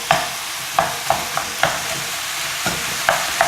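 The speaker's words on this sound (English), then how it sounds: "now I'm going to add in my onions and kind of get everything else in." Onions are stirred into a frying keto crack slaw of mince and cabbage. Spaced metallic scrapes and taps of the spatula sit over a steady, close sizzle, with no talking.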